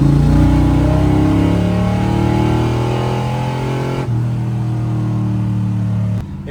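A GM car's engine holds a steady, loud drone in first gear at about 3,000 rpm, then the note drops slightly and carries on before cutting off near the end.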